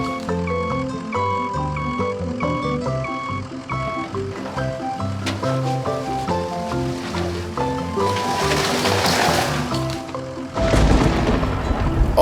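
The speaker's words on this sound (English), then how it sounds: "the rain started pouring down" Cartoon sound effect of pouring rain and thunder: a cheerful melody plays first, then a loud hiss of rain builds and a sudden thunder crash bursts in at the end.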